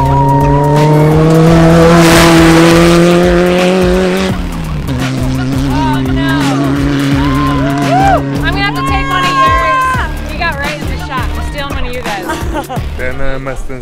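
A 4x4 race car in the Baja 1000 off-road race roars past loudly, its engine pitch sliding down as it passes, followed by further engine revs and skidding tires under crowd noise.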